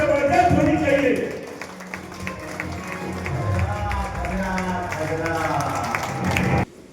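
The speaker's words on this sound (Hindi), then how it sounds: "तालियां जबरदस्त होनी चाहिए" An audience claps enthusiastically with hands raised, a steady crowd applause running under a voice speaking over it, ending abruptly.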